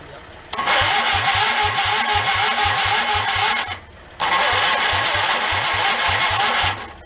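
A swapped-in 19 hp small engine's starter cranks in two long bursts with a rapid chugging rhythm, pausing briefly between them, loud and close.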